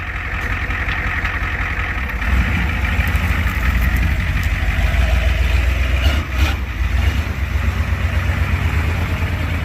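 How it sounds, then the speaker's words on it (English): A 1988 Ford truck engine idles roughly with a rattly, sputtering exhaust from an exhaust leak and a holed muffler, a steady low rumble that swells slightly partway through. "We had an exhaust leak. I think the muffler's got a hole in it."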